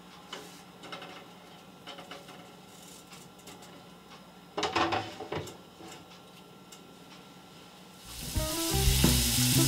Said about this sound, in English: We're sauteing the onions and the mushrooms